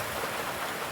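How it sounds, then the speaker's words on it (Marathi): Heavy rain pours down in a constant dense hiss, loud and close, with no voices over it. "आता घरी कसं जावा बघा किती पाऊस आहे"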